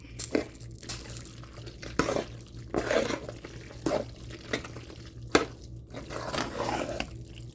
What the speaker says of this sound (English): So now all we want to do is go ahead and stir this up.